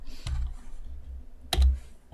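Two brief clusters of clicks from computer keyboard keys, one early and a sharper, louder one later, close and alone with no talk, while entering code in the MakeCode JavaScript editor for a micro:bit.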